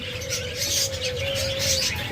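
Lovebirds, java sparrows and budgies chirping together in a busy aviary chorus, with a steady thin whistle running under dense, overlapping high tweets and chatter, close and continuous.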